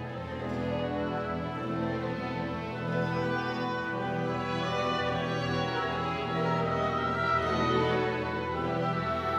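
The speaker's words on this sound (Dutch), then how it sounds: "En dat muziekstuk, dat heet de Matthäus Passion." Excerpt from Bach's St Matthew Passion, a classical orchestral and choral work, playing steadily at moderate level with sustained layered tones and no talking.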